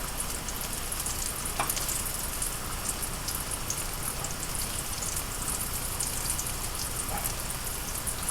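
Yam balls frying in hot oil, a steady dense sizzle and crackle with no pauses, close and even in level, with a few brighter pops breaking through.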